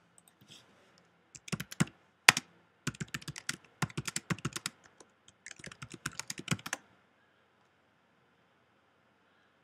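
Someone types an address on a computer keyboard: quick clusters of crisp key clicks in several short bursts, close and clear, with silence afterward.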